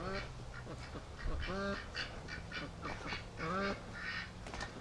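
Free-range ducks quack in a lively outdoor flock, several nasal calls overlapping against a constant background hum, fairly close and steady throughout.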